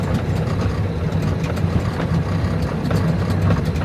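An old Mack truck's engine roars inside the cab while driving, a loud continuous low rumble and drone with rattling, steady throughout.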